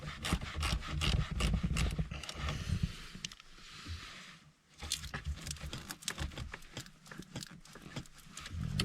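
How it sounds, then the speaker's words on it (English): Ratchet wrench loosening the nut on the positive battery terminal of a Jeep SRT, a quick series of close rasping clicks in bursts, pausing briefly midway before resuming. "Now we go back here to the positive terminal and do the exact same thing. So we're gonna go ahead and remove this nut and loosen it."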